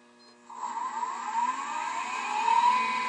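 A wood lathe spinning at 2500 RPM while turning a face grain spindle gives a steady, rising whine that begins about half a second in and holds at moderate loudness, with no talk.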